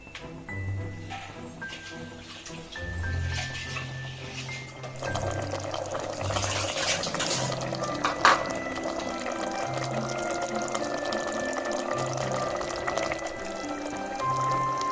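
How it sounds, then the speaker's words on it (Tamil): Water pours into a cooking pot for mushroom biryani, a steady splashing stream that grows fuller and louder partway through and continues without break. "இப்போ தண்ணி சேர்த்துக்கலாம்."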